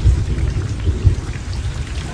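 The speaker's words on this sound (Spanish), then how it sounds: "y comenzaron a llover" Steady heavy rain pours with low rumbling thunder throughout, used as a sound effect in a children's story; no voices are heard.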